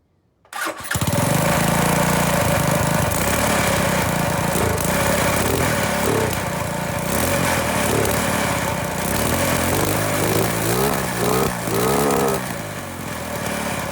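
A 200cc shifter kart engine fires up after a moment of silence and keeps running loudly and close, a raspy buzzing idle with small wavering blips of throttle throughout.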